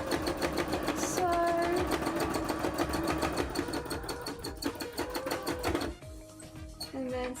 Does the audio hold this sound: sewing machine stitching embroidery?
yes